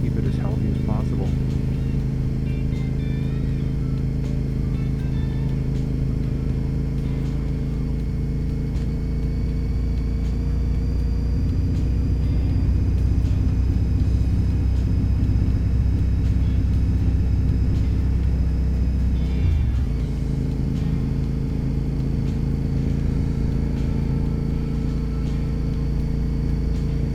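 A motorcycle rides along a country road near Campbellville, its engine droning as a steady, loud rumble with heavy wind noise, a brief shift in tone partway through, and a rider talking over it the whole time.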